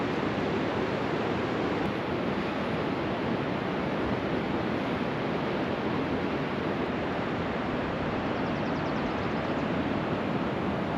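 Steady, loud rush of the Colorado River flowing where Havasu Creek joins it, a continuous broadband roar of water with no pauses and no voices.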